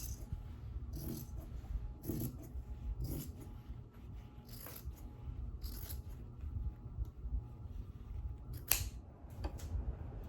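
Scissors trim fabric for a sewn garden bucket caddy: a series of short, crisp snips at an uneven pace, fairly close and quiet, with no talk.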